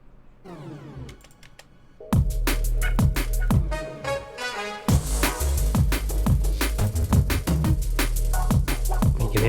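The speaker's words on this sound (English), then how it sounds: "You can hear the delays going in the background as well." Busy electronic music track with punchy repeated drum hits and layered synths, delay effects echoing in the background as the full beat kicks in after a sparser intro.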